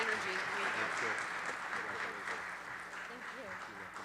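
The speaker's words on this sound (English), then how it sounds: "Let's have another round of applause for Ingrid." An audience applauds at an event honoring women who lead, steady clapping throughout with voices and speech mixed in.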